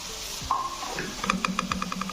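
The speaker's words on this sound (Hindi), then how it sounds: "अब इसके अंदर जो मैंने तड़का बनाया ये डाल दूंगा।" A spiced tempering is poured into a pot of spinach and potato curry, giving a short sizzle with light metallic clinks of stirring, close and unaccompanied by talk.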